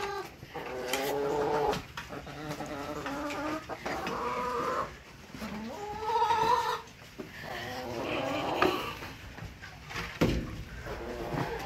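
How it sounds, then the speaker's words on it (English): Chickens cluck and squawk in a busy, irregular chorus close by, with several birds calling over one another throughout. "Chickens."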